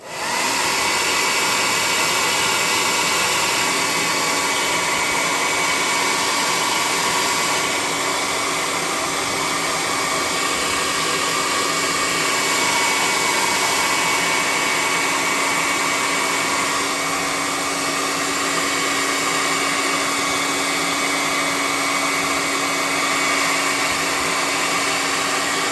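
A hair dryer blows steadily and loudly at close range to dry off a tabletop gaming miniature, a continuous even whoosh with no pauses and no talking.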